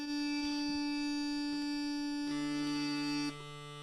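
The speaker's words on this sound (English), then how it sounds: "That's the baritone drone." Uilleann pipes drones hum steadily, with a lower baritone drone joining the sustained tone near the end, close and continuous.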